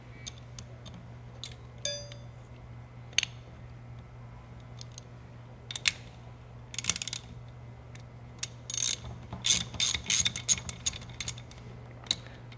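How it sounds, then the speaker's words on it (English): Ratchet turning a 9/16 socket to remove a pressure port on a ground fueling hydrant coupler, sparse metallic clicks and short ratcheting bursts, quiet and close over a low steady hum, no talk. "To remove the reference pressure port, we're going to use a 9/16 socket."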